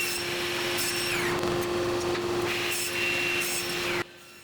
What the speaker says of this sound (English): I slid the Jessom Miter XL2 gauge into the saw to cut the pieces to final size